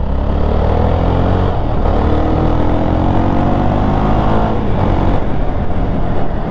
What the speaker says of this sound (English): the exhaust note gets better and better as the bike heats up